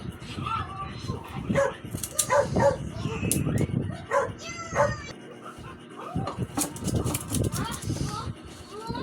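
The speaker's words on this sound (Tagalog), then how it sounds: "Ingay ng mga aso." Several dogs bark and yip in bursts over busy background chatter, fairly close and irregular.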